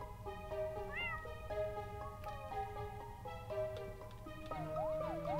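A cat meows repeatedly in the game Imposter Factory, plaintive rising and falling cries heard over ambient game music.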